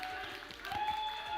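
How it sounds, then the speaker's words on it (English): Applause from a crowd at an esports finals watch party, steady and fairly loud, with voices mixed into the clapping. "one last round of applause to send it before we send it back"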